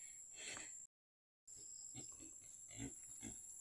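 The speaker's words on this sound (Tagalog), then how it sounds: "Look, this is the pig pen." Pigs in a pen on a small farm, soft grunts and snorting close by over a steady background hum, briefly interrupted by a gap of silence.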